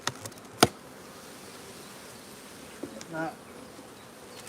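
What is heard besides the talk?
honey bees buzzing in hive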